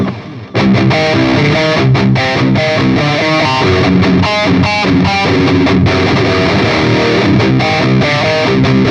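Distorted electric guitar played through a Line 6 POD Express pedal set to ping pong delay, with repeated notes and chords bouncing in echoing rhythmic trails, loud and close throughout, no talk.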